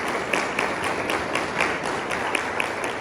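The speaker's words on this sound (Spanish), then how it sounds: "Dr. José Ramón Comas Viñas, para quien les pido un fuerte aplauso." Audience applause following the introduction of a psychiatrist giving a talk on mental health, a steady wash of clapping with no voices, holding level for a few seconds.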